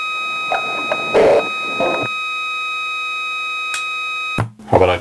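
A System Sound synthesizer oscillator with dirty frequency modulation holds a steady, buzzy multi-harmonic drone, broken by several short noisy bursts and a harsh glitchy sweep near the end.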